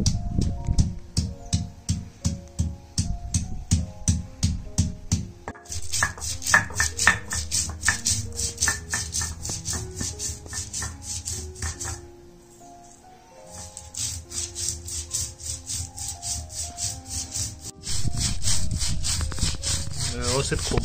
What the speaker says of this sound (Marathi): पहिला खोबरा आहे तो खोबरा वाटून घ्यायचा